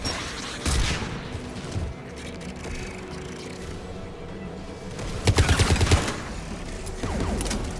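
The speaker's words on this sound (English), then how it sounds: "AA guns ahead of us." Anti-aircraft guns in the Mass Effect 3 video game firing in bursts, a sharp volley near the start and a loud rapid string of shots later, set over constant rumbling battle noise with no speech.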